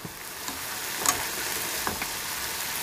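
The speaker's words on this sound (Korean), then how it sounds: "뚜껑 덮고 우엉을 부드럽게 익혀줍니다." Burdock root braising under a lid in a covered pan, giving a steady, quiet simmering sizzle with a few faint clicks and taps and no talking.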